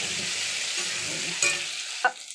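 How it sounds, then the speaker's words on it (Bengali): Potatoes frying with turmeric and salt in a pan, a steady close sizzle broken by two sharp scrapes of a stirring spoon near the end, with no one speaking. "হলুদ আর লবণ দিয়ে আমি এটাকে ভাজা ভাজা করব।"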